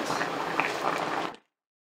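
Chicken tajine with broth bubbles in a pot, a dense crackling simmer heard close for over a second before cutting off abruptly into silence.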